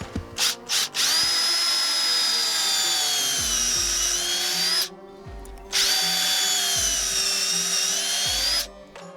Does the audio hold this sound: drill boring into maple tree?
yes